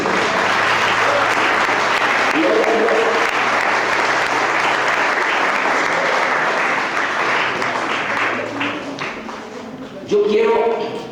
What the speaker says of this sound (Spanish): ¿Le puede dar un aplauso a Cristo,